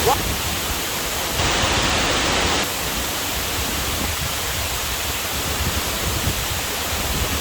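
Waterfall at Tulayo Falls in Lipay, Jose Dalman, Zamboanga del Norte, a steady, dense rush of falling water that fills the clip evenly and swells briefly louder for about a second near the start.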